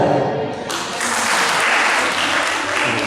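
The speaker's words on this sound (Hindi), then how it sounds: "जोरदार तालियां।" Applause from an audience welcoming chief guests seated on stage at a formal event, a steady burst of clapping that swells suddenly and holds, with some voices mixed in.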